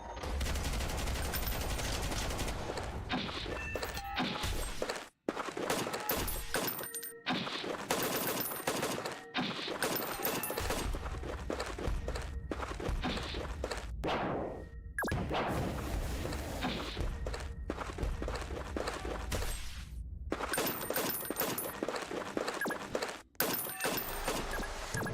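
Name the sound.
five-volley machine gun firing in video game Noobs in Combat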